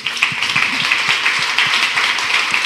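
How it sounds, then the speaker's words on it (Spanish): Audience applause during a motivational talk, a steady wash of clapping hands filling the space at close range with no voice over it. "un aplauso, ¿no?"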